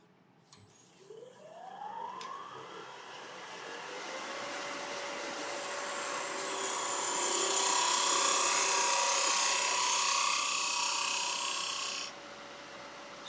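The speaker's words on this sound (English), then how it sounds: "So I'm just starting in the middle and just back hollowing it out like this all the way." Half-inch spindle gouge hollowing Irish walnut on a wood lathe, a whirring motor spinning up, then a steady hissing, scraping cut that swells in the middle and stops abruptly near the end.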